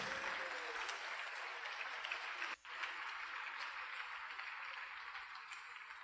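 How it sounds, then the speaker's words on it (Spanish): Quiet, steady applause from a church congregation during a sermon, distant and soft, with a brief drop partway through. "Denle un aplauso a Cristo si quieren."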